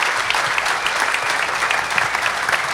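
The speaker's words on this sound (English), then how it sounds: "Please give a round of applause to Joel Salatin, Butch Tindell, Shawn Dougherty" A crowd applauds a homebuilder panel at a men's event, dense, even clapping that holds steady throughout with no voices on top.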